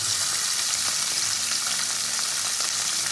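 Khoira fish frying in hot oil for a mustard-paste jhal, a steady broadband sizzle that holds close and loud throughout with faint crackles, no voices.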